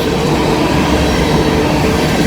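Freight train cars rolling past at close range, a loud, steady roar of wheels on rail with continuous rumble and no pauses.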